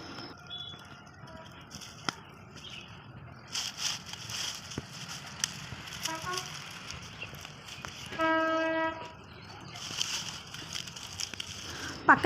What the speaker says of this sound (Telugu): ట్రైన్ సౌండ్స్ బాగా వస్తున్నాయి మధ్యలో.